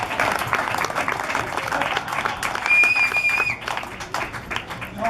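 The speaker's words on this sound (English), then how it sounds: "Let's give him a round of applause for being a maverick." An audience at a retirement party applauds, with dense, continuous clapping from a roomful of people that stays loud throughout, along with some voices and a faint whistle-like tone partway through.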